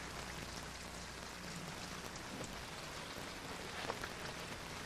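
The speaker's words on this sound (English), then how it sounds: "It's starting to rain." Steady rain falls outside, a constant hiss of drops on surfaces with a low rumble underneath, no voices.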